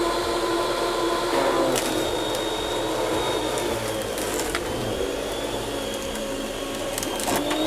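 An electric meat slicer motor runs steadily, a continuous mechanical whir with grinding and faint scraping as the blade works through meat, moderately quiet and close, with no one talking.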